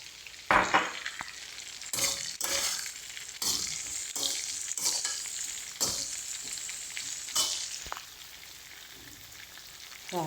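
Carrots and beans sizzle and fry in a pan while being stirred, with steady crackling broken by repeated scraping strokes of a spatula, close and moderately loud, no voices.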